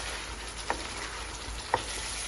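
Meatball kofta curry sizzles in a pan as it is stirred, a steady close frying hiss with two soft knocks of the spoon against the pan.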